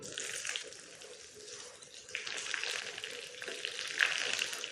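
Mustard seeds splutter and crackle in hot coconut oil for a Kerala parippu curry tempering. A continuous close sizzle with scattered pops swells to louder bursts toward the end.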